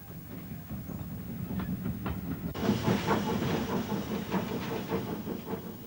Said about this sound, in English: The best known ever British steam locomotive.